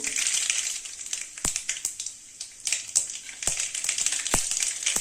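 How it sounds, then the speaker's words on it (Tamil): Mustard seeds spluttering in hot oil for bitter gourd kulambu, a steady high crackling hiss with sharp pops scattered throughout, close and fairly loud. "எண்ணெய் ஊற்றியாச்சு கடுகு போட்டுக்கலாங்க"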